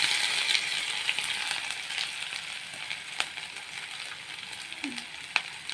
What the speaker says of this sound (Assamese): এতিয়া মাছ ভজা তেলখিনিতে দিম কেইটামান পাঁচফোৰণ আৰু দিছোঁ এটা শুকান জলকীয়া, আৰু ইয়াতে দিম আদা আৰু নহৰুৰ পেষ্টটো